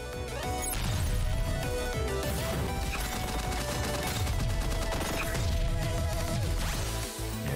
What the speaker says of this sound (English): Just casually reflect explosions, don't worry about it.